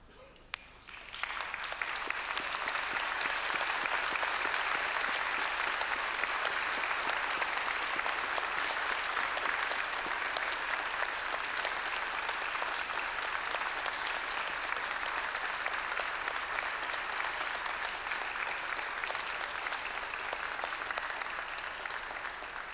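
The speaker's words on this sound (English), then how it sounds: "express your gratitude by a round of applause" A graduation ceremony audience gives sustained applause, dense steady clapping from a large crowd that starts abruptly after a second and continues evenly for over twenty seconds, moderately distant.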